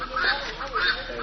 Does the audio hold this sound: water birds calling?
yes